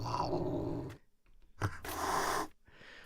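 A cat-like animal growl from the World of Tanks game plays in two rough, rasping bursts separated by a short quiet gap, close and fairly loud, with no talking over it.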